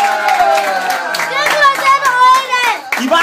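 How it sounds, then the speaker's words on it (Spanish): A family guest team at a New Year's song contest gets applause from the audience, with scattered hand claps under loud overlapping voices, including children's, close by. "¡Un aplauso!"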